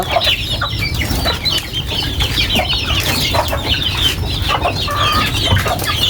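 Chicks being fed, a dense chorus of high peeping and clucking from many birds close by, steady and loud with no talk.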